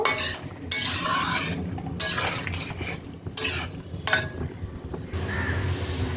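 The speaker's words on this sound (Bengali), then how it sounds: "ধনে পাতা কুচি দিয়ে আবারও একবার ঝোলের সাথে ভালো করে মিশিয়ে নেব" Spoon stirring a koi fish curry with cauliflower in a pan after chopped coriander goes in, a steady scraping rhythm with several louder strokes and faint clinks against the metal, no talk.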